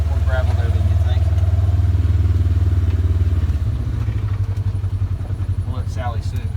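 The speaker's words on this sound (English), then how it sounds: "We'll park around here where we load with the tractor." A tractor engine runs with a deep, steady rumble near a gravel pile being loaded to repair a driveway, loud and close, its throb shifting slightly partway through while people talk over it.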